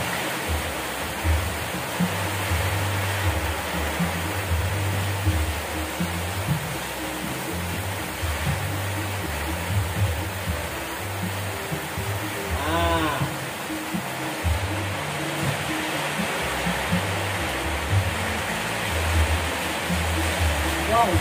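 Steady outdoor rain hisses as an even, dense wash of noise while someone is outside cleaning a car, with a brief faint squeak partway through and no clear speech.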